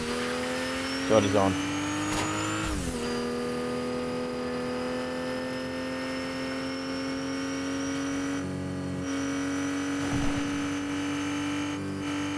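A car driven in Fortnite during a duos match gives a steady, loud engine drone with a sustained pitch that dips and rises slightly at a gear shift. Voices talk over it.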